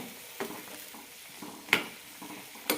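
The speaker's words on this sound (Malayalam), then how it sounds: "കറി തിളയ്ക്കാൻ തുടങ്ങിയിട്ടുണ്ട്" Spoon stirring a simmering dried prawn theeyal curry in a pan, with soft bubbling under a few scattered scraping knocks, fairly quiet and close, with no voices.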